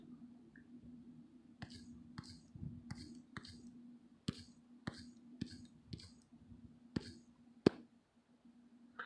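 Fingertip taps on an Android phone's touchscreen keyboard, a dozen or so soft, irregular clicks spaced through a quiet room with a faint steady hum underneath.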